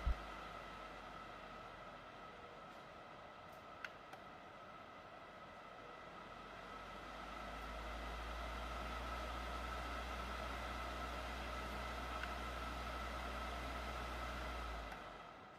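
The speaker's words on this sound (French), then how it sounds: "je vous fais écouter en direct les deux niveaux de la hotte portable" Steady portable range hood fan drone with broadband whoosh, shifting to a louder, deeper second speed level partway through, then cutting back near the end.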